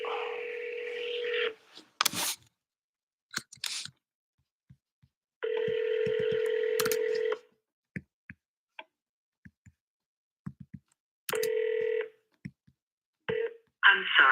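A phone call placed to someone's son: short keypad beeps, then repeated bursts of steady ringback tone separated by silences and faint ticks, close and clear with no talking.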